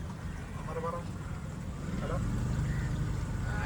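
A boat moving through the backwaters at Poovar near Thiruvananthapuram, Kerala, a steady low engine drone with water and wind noise that grows slightly louder midway, heard close with faint voices in the background.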